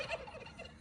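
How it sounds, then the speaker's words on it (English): Turkeys on a farm give a quick burst of gobbling, a brief rattling call that is fairly faint and slightly distant. "You hear those turkeys?"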